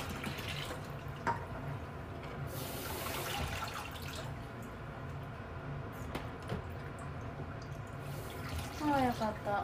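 Tap water runs steadily into a sink while something is rinsed, a continuous close splashing with a few small knocks and clatters mixed in.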